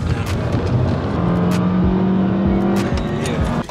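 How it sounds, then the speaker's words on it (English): Car pulling away on a test drive, engine revving up with rising tones as it accelerates, loud and close, with a brief voice near the start. "we're gonna go for a test drive"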